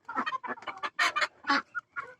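Backyard chickens cluck in a quick series of short, close calls with brief pauses between them, heard alone without talk.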